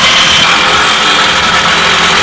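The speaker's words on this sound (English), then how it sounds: "As you hear the electric jackhammer" A steady, loud mechanical rumble of an electric jackhammer running continuously without pause at an excavation site.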